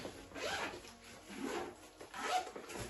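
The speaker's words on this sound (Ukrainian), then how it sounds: "замки, знаєте, коли нові, вони посерединки і ти можеш відкрити в будь-яку потрібну сторону" A zipper on a new Nike backpack is pulled open in several long rasping strokes, close and fairly quiet, with no talking.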